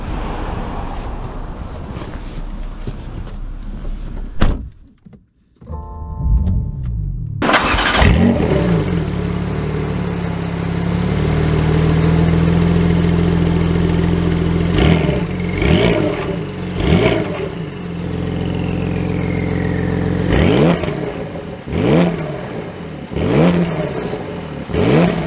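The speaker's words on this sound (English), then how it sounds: "let's see how the Carrera S drives." A Porsche 911 Carrera S starts with a brief starter whir and catches into a loud idle, then pulls away with rising revs and several throttle blips and gear changes, close, with wind noise.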